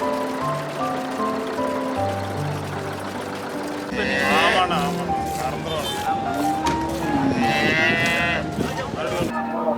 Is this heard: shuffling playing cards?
no